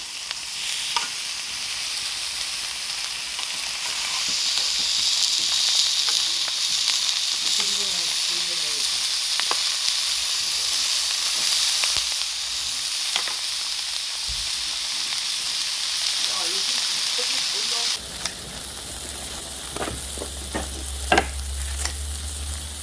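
Thick steak sizzling loudly in a hot pan, a steady crackling hiss throughout, with occasional scraping and clinks and brief voices in the background.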